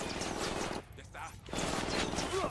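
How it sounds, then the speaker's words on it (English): Ghost Recon Wildlands firefight: dense, rapid bursts of automatic gunfire fill the scene, break off for a brief lull, then resume heavy and close. "Opening fire on these fuckers."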